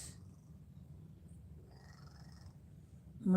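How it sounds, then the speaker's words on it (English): A small cat purrs close up with a soft, steady low rumble, faint and continuous, ending in a brief louder noise. "One of the most loving little kitties ever."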